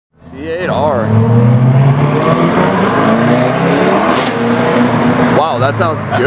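A Chevrolet Corvette C8.R race car roars past at a track, its engine swelling loud and close before fading, with spectators talking over the noise.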